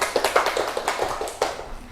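Classmates clap for the winning first group in a school classroom, a brisk run of close hand claps with uneven rhythm and a few louder slaps, continuing steadily for a couple of seconds.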